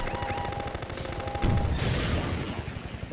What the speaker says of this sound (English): I'm gonna throw a few rockets up there